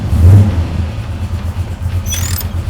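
A 1969 Chevrolet Camaro SS 396 V8 rumbles close by with a deep, pulsing low idle that swells briefly at the start. A faint high squeak sounds near the end.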